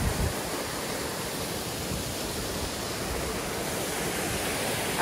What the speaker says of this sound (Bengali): এখানে জলের আওয়াজটা পাওয়া যাচ্ছে ভালো করে।